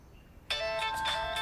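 After a brief quiet moment, an electronic phone ringtone starts abruptly and plays loudly and continuously.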